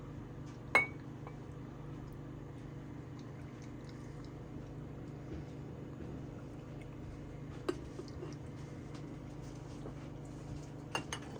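Glass canning jars clink faintly three times, once early and twice near the end, while strained pork juices are poured into them in a quiet kitchen.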